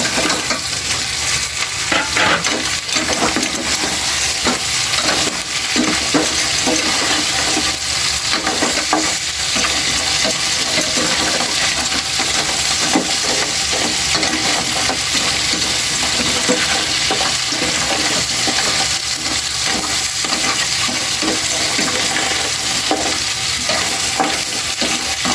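Small crabs fry in a pan with a loud, continuous sizzle, while stirring adds a steady scraping and clatter throughout.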